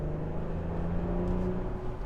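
A 2022 Audi SQ5 engine in comfort mode kicks down and pulls under acceleration, a steady low drone with faint whirring tones held close and continuous, no talking.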